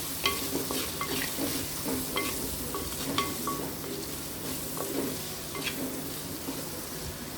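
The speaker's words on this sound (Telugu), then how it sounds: "ఇవి కొంచెం ట్రాన్స్పరెంట్ అయ్యే వరకు వేపుకోవాలి" Onions sizzle steadily as they fry in a clay pot for a cauliflower tomato curry, with frequent scraping and clinking of a spoon stirring through the pan, close up and without speech.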